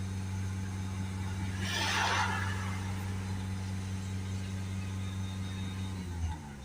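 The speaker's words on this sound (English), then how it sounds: "So I'm just holding the revs at about 3000 there." A Citroen Berlingo 1.6 HDi diesel engine is held at a steady raised rev of about 3000 rpm, giving a constant low hum with a brief hiss partway through before it settles near the end.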